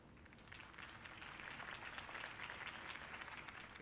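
Steady crowd applause in a Batman video game, dense clapping throughout, loud and continuous, with faint cheering mixed in.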